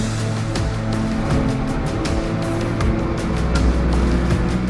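A GTi race car on a circuit during an endurance race, its engine droning loudly and continuously with rhythmic pulses as it runs close by.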